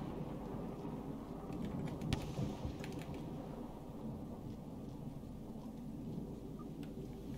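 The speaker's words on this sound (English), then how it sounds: "Man, the lightning sure is loud here." A thunderstorm in the video game Rain World rumbles with heavy low thunder and steady rain, a loud continuous roar with a sharper crack near the start, no talk over it.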